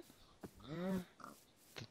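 Minecraft pigs oink with one clear nasal grunt, followed by a couple of short, softer snorts. All are faint and close in a quiet game scene.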